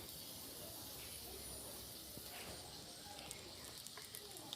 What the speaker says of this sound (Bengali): ভালো করে ফোড়নটা ভেজে নেব